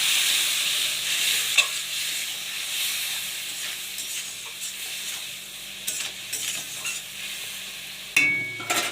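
Spice paste of ground coriander and cumin fries in a pan with a little added water for the Katla fish and pointed gourd curry, giving a steady close sizzle broken by occasional scraping stirs and a sharp clatter near the end.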